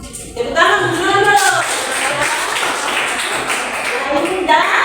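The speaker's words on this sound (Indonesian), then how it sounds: "Tepuk tangan dulu." Schoolchildren clap in a classroom during a science lesson, a loose burst of hand claps running several seconds close by, mixed with children's voices.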